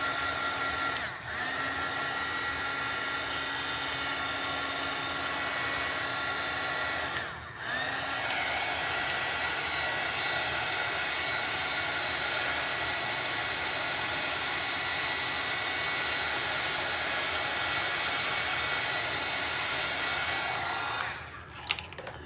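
A hair dryer blows steadily on hair at close range, a loud, constant whooshing roar with two brief dips partway through before it cuts off near the end.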